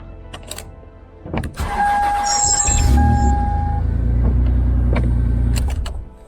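A car engine cranks with a few clicks and a whir after an ignition lock cylinder repair, then catches and settles into a loud, steady idle close by.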